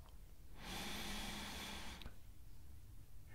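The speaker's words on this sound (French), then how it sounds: "On expire encore." One long, close exhalation, part of a guided breathing exercise, is heard as a soft airy rush lasting about a second and a half before fading into quiet room noise.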